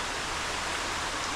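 Waterfall in Bohol, Philippines, pounding down during heavy rain, a dense, steady broadband roar that fills the whole short stretch at close range with no pauses and no voices.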